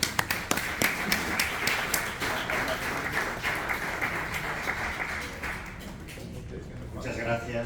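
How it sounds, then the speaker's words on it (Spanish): Audience applause at a summer school talk in Pamplona breaks out as loud, dense clapping with sharp individual claps, fading slightly near the end as a voice begins speaking. "Muy bien, aplausos."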